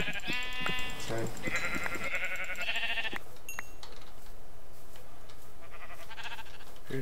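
Sheep bleating in a blocky survival game, several loud wavering bleats close together in the first few seconds, with another bleat near the end over a low steady ambient hum.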